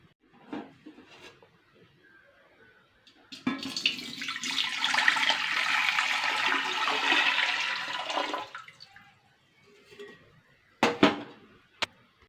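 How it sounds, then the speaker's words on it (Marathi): Water gushes and splashes steadily into a metal pressure cooker for several seconds, bracketed by a few clinks and clatters of utensils. "हे पाणी मी या कुकरमध्ये टाकून घेणार आहे सहा ग्लास"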